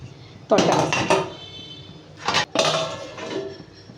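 A metal spoon scrapes and clanks against a pot while stirring a potato vegetable curry, in bursts of close clattering separated by quieter pauses, with someone speaking in between.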